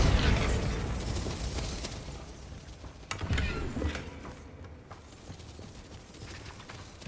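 Bombarda explosion spell from the Hogwarts Legacy game, with a burst of broadband blasts and crackling debris. There is a strong hit at the start and a second burst about three seconds in, followed by lingering rumble.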